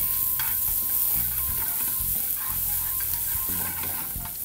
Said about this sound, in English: we're going to fry the onions, shallots, and pancetta together